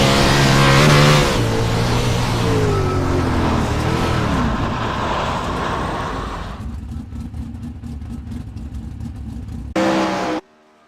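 A race car engine at full throttle roars loud and close, its pitch sweeping and wavering through a corner before settling into a steady, buzzing drone that cuts off abruptly near the end.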